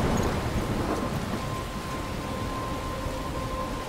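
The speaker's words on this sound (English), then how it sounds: "I'm trapped in a storm?" A thunderstorm in the video game Life Is Strange gives steady, dense rain hiss under a deep rumble of thunder, loud and continuous from start to finish with no voices.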